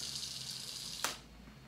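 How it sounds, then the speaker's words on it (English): Household window blinds snapping shut as they are closed, one sharp clappy snap arriving about a second in over a faint steady background hiss. "I then added a clappy snap sound from the blinds when I was closing them."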